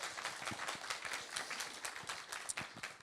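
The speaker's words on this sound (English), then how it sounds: "let's give Jay a round of applause" An audience claps for a presenter at a talk, a quiet, fairly brief spatter of many hands with scattered sharper claps, heard alone with no voices.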